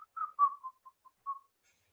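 A person whistles a short tune of several brief notes, imitating someone casually whistling while looking away; clear and alone, with no talk over it.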